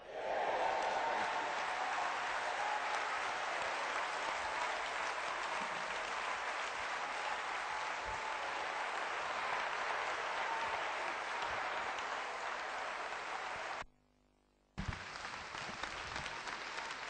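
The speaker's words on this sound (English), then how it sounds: "Let's keep clapping, let's keep clapping." A church congregation at a London gathering claps steadily and loudly after a benediction, a dense sustained wall of applause that cuts out briefly near the end before resuming.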